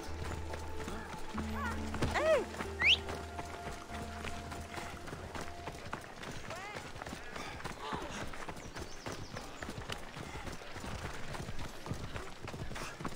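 Horse hooves galloping in Assassin's Creed Odyssey, a steady clip-clop run with a brief whinny near the start, heard under someone talking and game music.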